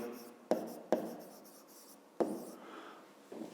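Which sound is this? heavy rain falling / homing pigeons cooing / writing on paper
writing on paper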